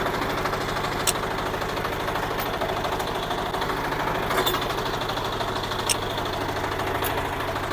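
A Husqvarna walk-behind tractor engine runs steadily in high gear, a close, continuous rattling drone with a few faint clicks on top and no talk.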